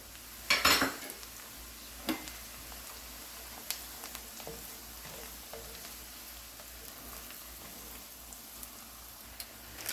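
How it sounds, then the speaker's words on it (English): Orzo pasta goes into a pan with garlic: a sharp rattling pour at the start, then quiet sizzling with scattered scrapes and taps of a utensil against the pan. "And then we're going to add in our Orzo."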